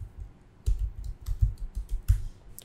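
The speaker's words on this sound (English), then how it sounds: "type any email" Typing on a computer keyboard, with irregular soft key clicks and taps at close range and no speech.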